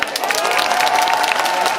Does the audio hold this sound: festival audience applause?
yes